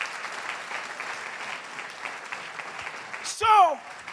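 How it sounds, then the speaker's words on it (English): A church congregation claps in praise, a steady, moderately loud wash of many hands, ending in a brief, sharp vocal outburst near the close. "Why don't you clap for El Shaddai?"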